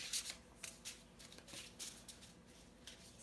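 Angel Wisdom Tarot cards are shuffled close up and softly, a string of quick papery riffles and taps in an uneven rhythm.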